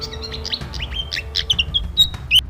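Kadasi bird calls: a run of short, high chirps and rising whistled notes repeating quickly and close, with a low hum underneath and no voices.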